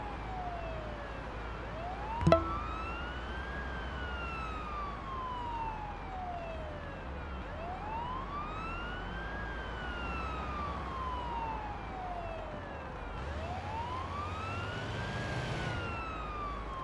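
A video game ambulance siren rises and falls in slow, repeating sweeps over a steady engine rumble, with a sharp click early and a brighter, busier stretch near the end.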